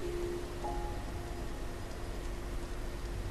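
Steady, soft rainfall hisses evenly throughout the video game Rain, faint and continuous, with a quiet musical tone running beneath.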